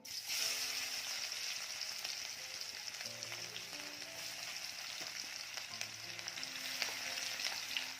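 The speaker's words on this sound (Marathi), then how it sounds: "तेल छान तापलं की सुरुवात आधी आपण लसूण टाकणार आहोत" Garlic fries in hot oil for a spinach bhaji, a faint but continuous crackling sizzle with small pops and a low background hum.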